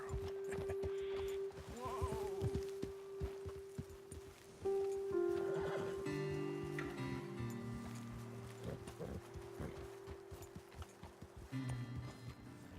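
Horses in the open-world Western game Red Dead Redemption 2, with hoof clip-clops, snorting and a neigh against an ambient outdoor bed and tonal game sounds, at moderate loudness.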